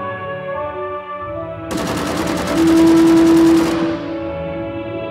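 A Tommy gun fires a sustained automatic burst of about two seconds in an American-life VR simulator game. It is loud and dense, with a steady musical tone running underneath.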